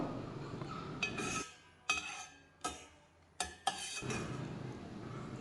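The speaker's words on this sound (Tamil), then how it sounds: "மிளகா வத்தல் வறுக்கையில் காம்போடு வறுக்கணும் நல்ல கருப்பு வர்ற வலைக்கு வறுத்துக்கணும்" Dried red chillies roast with their stems in a dry pan, giving several bursts of scraping and clinking stirring against the metal, close by with quiet gaps between them.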